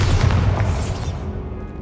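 A Bombarda blasting spell goes off in the Hogwarts Legacy video game as a single loud, close explosion with a deep booming burst that fades into a short rumbling tail.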